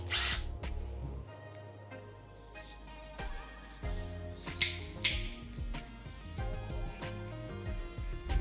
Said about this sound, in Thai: ใช้สว่านเจาะปูนเบอร์8พร้อมพุกนะครับวันนี้ใช้กับตัวไร้สายของเจม่าเรานะครับ